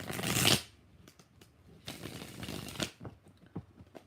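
Tarot cards are shuffled by hand in a loud riffling burst, then softer, longer shuffling and a few scattered taps and flicks, close up with no talk.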